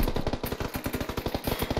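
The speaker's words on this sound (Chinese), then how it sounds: "后面还有枪声哦" Rapid automatic gunfire in a video game, a fast continuous burst of sharp repeated shots at a steady rhythm, loud and close, with no speech.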